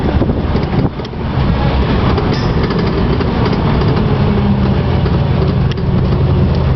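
A 1975 Ford Bronco with a 351 Windsor V8 and NP435 manual transmission drives in third gear, its engine and road noise a loud, steady rumble heard from inside the cab, with a brief dip early on.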